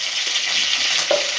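Curry leaves fry in hot oil in a pan with cinnamon, cloves, pepper and green chillies for paneer butter masala, giving a loud, steady close-up sizzle with a brief stirring scrape near the end.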